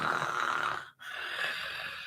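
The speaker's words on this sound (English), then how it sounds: "you are going to snore for 1 minute" A person lying on their back snores on cue, a rough, raspy breathing drone that breaks off for a brief pause near the middle and then resumes, close and steady, with no talking.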